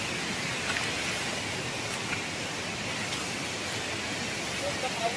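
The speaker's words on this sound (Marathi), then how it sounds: "मस्त पाऊस पण येतोय आता" Rain falls in a forest near a waterfall, a broad, steady hiss of drops heard under a person's voice, with faint patter throughout.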